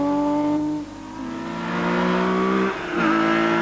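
A Ford Sierra Cosworth rally car on a winter rally screams past under hard revving, its engine note climbing, dipping between gear changes and climbing again, loud and close.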